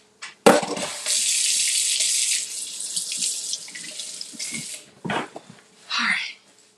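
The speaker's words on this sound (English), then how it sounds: "wash my hands again" A kitchen tap runs while hands are washed, starting with a sudden burst and then a steady close hiss that thins out, followed by short splashes near the end and a brief voice.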